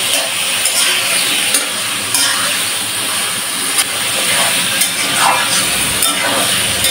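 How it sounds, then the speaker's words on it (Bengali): Pieces fry with salt in oil for a chicken curry, giving a loud, dense, steady hiss with occasional small crackles and stirring clicks. "এখন ফাইন করে ভেজে নেব।"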